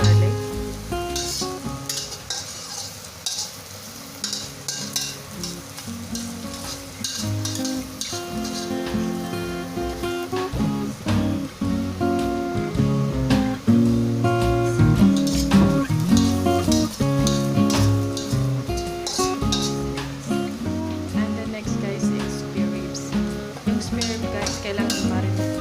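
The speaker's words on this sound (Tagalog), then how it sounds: "Fry mo muna yung bawang." Minced garlic frying in a pan, a steady loud sizzle with bursts of crackle and occasional clatter of stirring, continuing for the whole stretch while a person talks softly.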